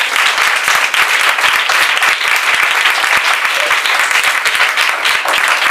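Audience applause at a Christian gospel gathering: dense, steady clapping from many hands that fills the whole stretch at an even, loud level.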